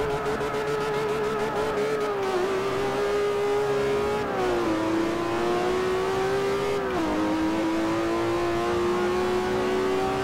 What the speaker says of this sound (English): Ferrari 599 GTO